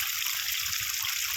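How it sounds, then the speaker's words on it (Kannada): Water from a 1000-foot farm borewell spills over the top of the casing in a roughly two-inch flow, making a steady close-up rushing hiss with no talk. "ಈಗ ನೋಡಿ 2 ಇಂಚ್ ನೀರು ಕೇಸಿಂಗ್ ಮೇಲಾಸಿ ಹೋಗ್ತಾ ಇದೆ"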